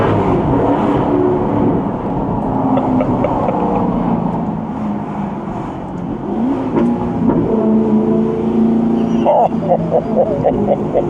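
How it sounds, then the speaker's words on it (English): Alfa Romeo 8C V8 exhaust rumbling loudly and steadily, its sound echoing back off buildings on both sides of the street, with rising revs near the end and a voice speaking over it. "especially when the buildings come either side, the vibrations just bounce back at you from the exhaust"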